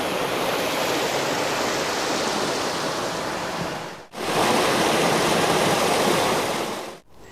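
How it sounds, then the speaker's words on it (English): Steady, loud rush of gushing water, like a fast stream pouring over rocks, continuous with brief dips. "Just love the sound of the gushing water."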